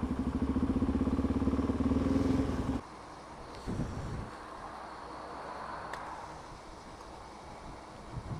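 A Lamborghini Countach passes with a loud, roaring engine for under three seconds, then cuts off abruptly, leaving a quieter background with brief clatter.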